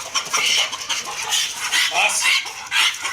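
Chickens squawk and cluck frantically in irregular bursts, close and loud, as an American Pit Bull Terrier chases them.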